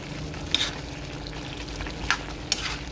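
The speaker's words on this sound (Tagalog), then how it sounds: "kumukulo na po yung ating kamansi" A pot of kamansi (breadnut) stew with coconut milk bubbling steadily at a boil, a constant simmering hiss with a few soft clinks.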